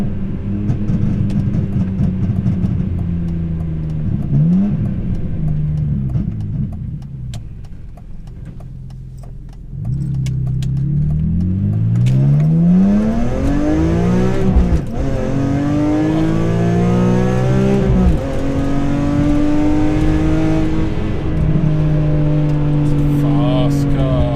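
A BMW M3 with the S54 engine and SMG gearbox, driven on country lanes: loud exhaust drone that settles, then climbs hard through rising revs and gear changes, with sharp pops along the way.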